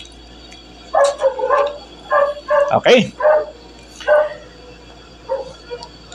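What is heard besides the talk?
dogs barking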